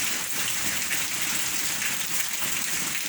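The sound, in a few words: rain falling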